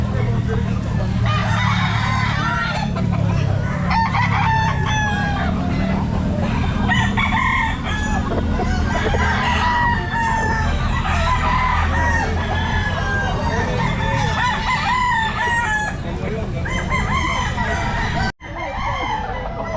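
Roosters crowing again and again at a crowded gamefowl pet market at Mt. Banahaw Grotto, loud overlapping calls and clucks close by, with a vendor's voice talking over the birds throughout.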